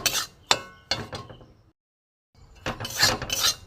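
Flour being stirred as it fries in a pan: a few dry scraping and clinking strokes of a utensil against the pan, close and fairly loud, then a brief silence and a rougher burst of rasping.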